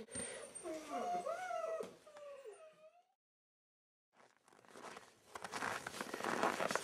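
Puppies whimpering and howling with high wavering whines close by, then a gap of silence before rustling and scuffling noise resumes.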